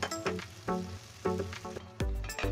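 Pangas fish curry in a pan of fried fish and spices with green chillies, sizzling and hissing loudly in sharp bursts as two cups of water hit the hot oil, heard up close with no talk.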